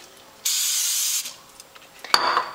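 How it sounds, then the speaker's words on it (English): Cooking spray hisses onto a waffle iron pan in one steady burst lasting under a second, followed by quiet handling and a short second spray, close and clear. "But first, spray the pan since we're starting over."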